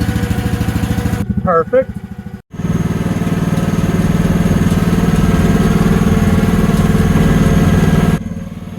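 A Chinese MX15R mini excavator's small engine cranks briefly, catches, then settles into a loud, steady close-up idle with a rhythmic throbbing hum, a short word spoken during the start.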